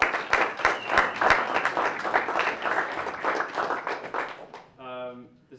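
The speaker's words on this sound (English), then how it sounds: "This is like a revival with all this clapping." An audience at a poetry book release claps enthusiastically, a dense burst of close, lively applause that tapers off before a short sustained tone near the end.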